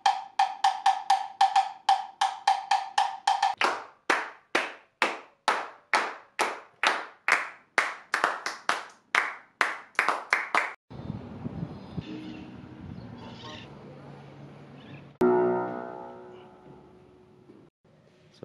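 A lone pair of hands claps a steady, even rhythm of sharp, close strokes that slowly speeds up a little, then stops and gives way to muffled room noise and a brief thump, on the set of a film about Empress Leopoldina.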